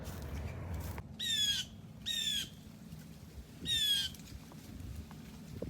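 A blue jay squawks harshly after a hawk attack, three loud separate calls spaced about a second apart over a soft outdoor background rumble.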